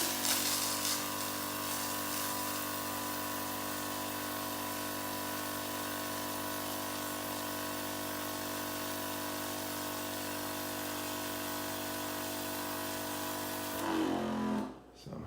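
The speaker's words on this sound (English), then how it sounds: "So let's see how this sprayer nozzle assembly sprays." An electric sprayer pump forces water through a nozzle assembly in a garage, producing a steady, even hum and hiss that runs unbroken for about fourteen seconds before cutting off abruptly.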